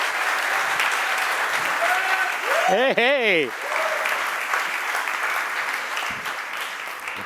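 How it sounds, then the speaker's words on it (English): A conference audience applauding a speaker, sustained dense clapping filling the room with a brief whoop midway and a voice calling out over it. "give a round of warm applause to Brett Frost"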